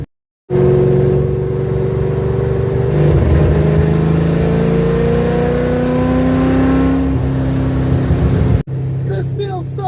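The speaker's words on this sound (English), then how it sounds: "There's nothing like just getting an old piece of crap rat rod and just cutting it loose" An old rat rod car with a long-dormant engine revs hard while driving, a loud continuous engine drone rising in pitch as it accelerates, then a brief cut and a rougher burst near the end.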